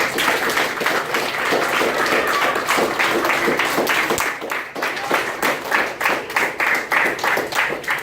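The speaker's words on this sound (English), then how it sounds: "Let's clap it up for our mayor coming and talking to us." Children at a summer camp applaud the visiting mayor, a loud, dense burst of clapping from many hands that carries steadily through, dipping briefly midway before picking back up with uneven, scattered claps.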